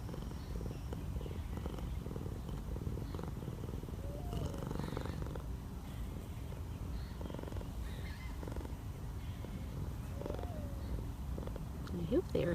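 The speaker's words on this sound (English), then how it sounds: "I hope they're hearing you purring." A cat purrs close to the microphone in a steady low rumbling drone that runs throughout, with faint outdoor background sounds.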